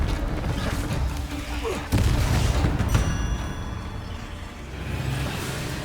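Confringo fire-blast spell cast in the video game Hogwarts Legacy: a loud burst near the two-second mark, then continued booming, crackling combat noise that runs steadily to the end.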